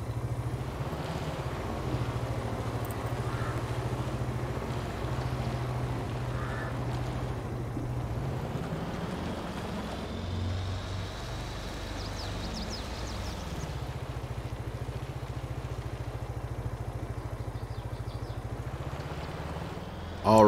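Motorbike engine in the Farming Simulator 22 video game, a steady low drone that rises and falls in pitch as the bike speeds up and slows down, running continuously at moderate volume.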